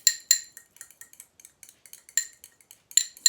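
Fork stirring blue colour into oil in a dish, a run of quick, close metallic clinks and scrapes in an uneven rhythm, sharper knocks at the start and end.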